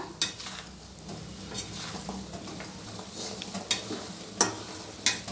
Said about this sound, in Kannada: ಕಮ್ಮಿ ಮಾಡಿಕೊಂಡು ನಿಧಾನಕ್ಕೆ ಎಣ್ಣೆಯಲ್ಲಿ ಚೆನ್ನಾಗಿ ಇದನ್ನು ರೋಸ್ಟ್ ಮಾಡಬೇಕು ಎಲೆಗಳನ್ನ